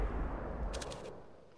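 A single heavy AWP sniper rifle shot in Counter-Strike: GO, a loud close boom that fades out over the following second, with no one speaking.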